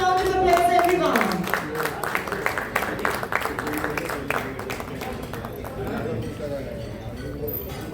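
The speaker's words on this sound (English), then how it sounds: "Can we have a round of applause, everyone?" An audience at an RRP Electronics and Deca Technologies event breaks into scattered, rhythmic clapping, moderately close, while a voice speaks over the start and background chatter continues.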